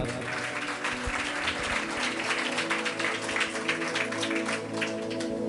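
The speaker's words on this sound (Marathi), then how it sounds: "आम्ही प्रभूच्या गौरवासाठी जरा जोरदार टाळ्या वाजवूयात।" Congregation at a church service applauding for the glory of the Lord, a crowd of hands clapping in a rapid, fairly even patter over a sustained musical hum, moderately loud and continuous.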